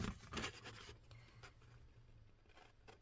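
Scissors cut slowly along a line in card for a miniature gift box, making a soft, continuous scratchy rasp that is quiet and close, with no voices.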